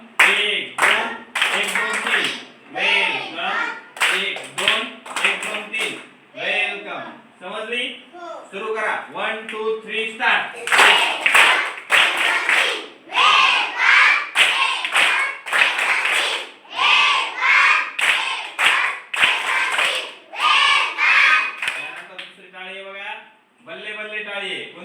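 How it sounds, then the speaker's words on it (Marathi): A group performs a rhythmic welcome clap in counted patterns of sharp hand claps, alternating with a leader's spoken instructions that dominate the clip. "आता आपण वेलकम टाळी पाहूया"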